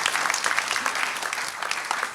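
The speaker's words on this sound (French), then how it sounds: "On peut l'applaudir." A church congregation breaks into dense, steady applause, many hands clapping together at close range with no pause across the short stretch.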